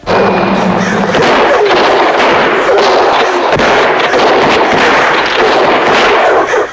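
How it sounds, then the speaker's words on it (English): A dense, continuous barrage of gunfire in a film, loud and relentless, with rapid overlapping shots and crackling bursts filling the whole stretch without a pause. "The intense barrage of bullets instantly turned the scarecrow into a hornet's nest."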